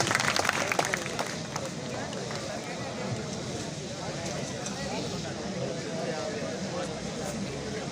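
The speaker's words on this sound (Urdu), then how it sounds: "بھرپور تالیوں سے استقبال کیجیے" Dense, sustained applause from a college audience greeting the principal at a formal function, steady clapping filling the hall with a slightly louder burst at the start.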